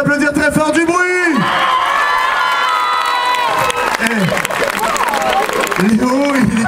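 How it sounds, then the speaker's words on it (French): A lively audience cheers and shouts with scattered clapping at an outdoor TF1 Danse avec les stars tour show in Lourdes, with an excited voice speaking loudly over the crowd noise throughout. "On peut les applaudir très fort, du bruit."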